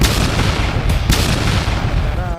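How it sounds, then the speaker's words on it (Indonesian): An animated cannon fires hot cannonballs in a battle scene: loud, heavy booming blasts with deep rumbling that fills the short stretch, one thud following another. "menjelma menjadi meriam yang memuntahkan peluru panas"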